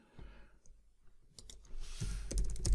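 A few soft, close mouse clicks in Power Automate, scattered and quiet, followed by a brief rising rustle of desk handling.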